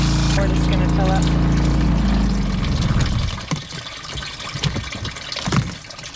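A portable washing machine in a full-time RV setup hums as it fills with water for about two seconds, then gives way to irregular close splashing and sloshing of water in the tub.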